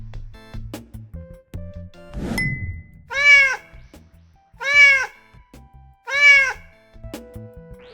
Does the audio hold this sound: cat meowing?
yes